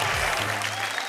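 An audience at a Hindi poetry show claps in a dense burst of applause, loud and close at first, then settling into a steady patter across the short stretch.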